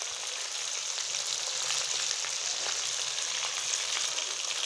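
Garlic ginger paste and green chili sizzling steadily in a hot pan for chicken karahi, a close, even crackling hiss with occasional stirring scrapes and no voices.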